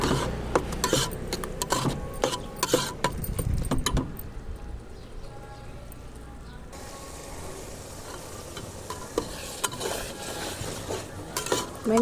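Fenugreek leaves, tomato and small fish simmering into a thick curry in a pan, with a ladle stirring and scraping through it and a soft sizzle beneath, steady and close with brief quieter stretches.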